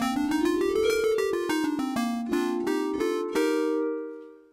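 Major scale in 31 equal divisions of the octave, played on a bright chiming synth voice: clear separate notes step up and then back down, alone and evenly loud, with the last note ringing out and fading.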